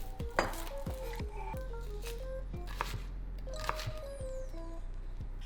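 Knife chopping shallots finely on a board in a kitchen, scattered taps and thuds with light scraping, mixed with faint clinks of utensils and a low background hum.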